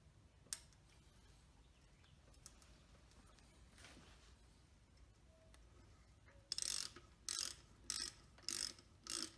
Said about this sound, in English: Notice I'm choked up on the ratchet.